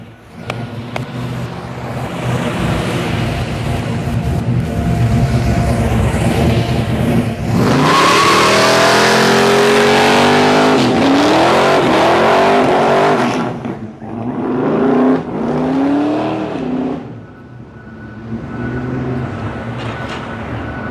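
A car with a big 9-litre 572 CI naturally aspirated V8 revs hard. Loud, rising and falling blips build into a long roaring run, then several shorter bursts and idle, all close and dominant.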